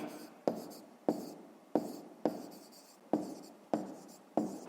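A pen writes out a math solution on paper in quick repeated strokes, each a sharp scratch that fades, about seven in a steady rhythm, close and quiet.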